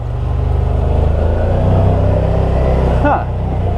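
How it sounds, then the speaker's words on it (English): An old Yamaha motorcycle engine braking in low gear, giving a steady close rumble that rises slightly, then cuts off abruptly near the end, with a voice speaking over it. "that's really good engine braking from the old Yamaha"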